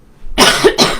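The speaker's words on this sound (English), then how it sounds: "I've got a bit of a cough today" Two harsh, loud coughs from a person close by, a longer first burst followed by a shorter second one, with no talking.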